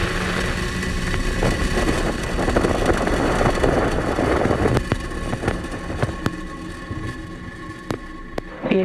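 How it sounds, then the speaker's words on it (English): SpaceX rocket engines at liftoff on the Korea 425 mission, a broad continuous roar that is strongest early and thins out, with scattered sharp crackles toward the end. "4, 3, 2, 1, ignition. And liftoff."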